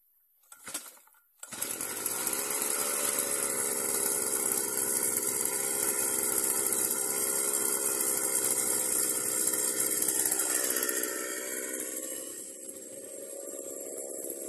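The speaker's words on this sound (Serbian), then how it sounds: "A još malo da kosim dok nije zamračilo." A grass-mowing machine's engine starts after a brief knock and runs loud and steady at close range, with its pitch dropping slightly near the end and no talking.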